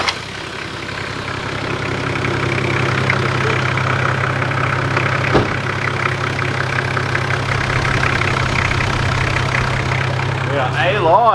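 A turbocharged Toyota Landcruiser 80 Series with a 1HZ diesel engine idles steadily and loudly close by, a continuous low throaty rumble with a brief clunk midway.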